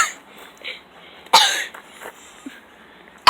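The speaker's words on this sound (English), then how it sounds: "Why are you coughing on me?" A single sharp cough near the middle, followed by softer throat sounds and faint background noise, ending with another brief burst.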